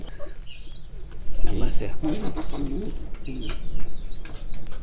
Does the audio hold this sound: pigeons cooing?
yes